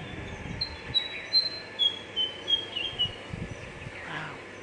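Songbird singing at sunrise from a mango tree, a series of thin, high chirping notes repeating at a moderate distance over a faint, steady outdoor background hum.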